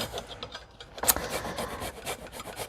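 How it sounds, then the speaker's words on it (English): Garlic being grated on a microplane in a home kitchen while cooking orange ginger salmon, giving a steady close scraping rasp of repeated strokes with no talking. "I'm gonna use it to grate some garlic."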